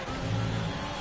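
Ferrari Formula 1 car engine in the F1 2020 video game, powering out of the last corner at the Hungary circuit, a dense continuous buzzing drone with a low rumble, steady and fairly close.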